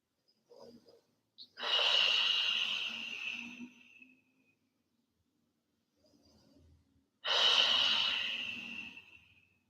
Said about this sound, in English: Take 3 more breaths, breathing deeply